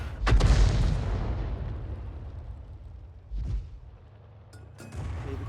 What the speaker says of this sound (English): You can see that the enemy Arty is actually firing at the mosque, or near the mosque.